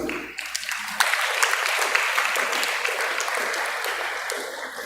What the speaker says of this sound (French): Et nous demandons encore une fois de plus d'applaudir.